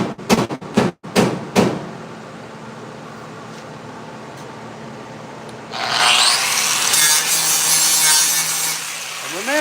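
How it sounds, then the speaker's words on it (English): A few sharp scrapes, then a loud, steady abrasive hiss of a sanding pad cleaning the metal of a 1968 Pontiac LeMans rear wheel tub, continuing close and harsh. "I'm taking this sanding pad and I'm gonna clean all this off"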